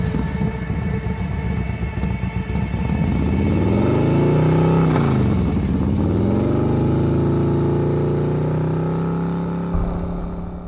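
Motorcycle taxi engine on a quiet empty road at night, starting with a brief rumble then revving up and pulling away, pitch rising and falling as it accelerates, steady and close without talk.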